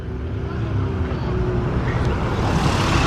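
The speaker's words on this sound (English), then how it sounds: "And next out is a Porsche GT3." A Porsche GT3 RS driving out, a loud steady engine rumble and road roar up close, continuous throughout with talk faintly under it.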